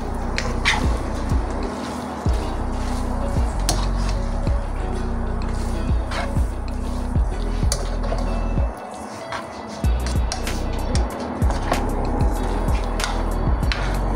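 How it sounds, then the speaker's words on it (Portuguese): Nero spaghetti with shrimp stirred in a pan, giving repeated close scraping and clacking knocks over a sizzling background, in an irregular rhythm that pauses briefly midway. "Agora vamos mexer!"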